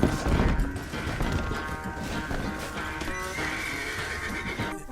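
A horse whinnies and clip-clops before tripping and crashing down in the Red Dead Redemption 2 video game, with loud hoof impacts and thuds layered over game sound.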